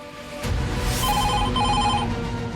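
A telephone rings during a call, a bright repeating electronic tone that sounds loud and close over a low steady hum.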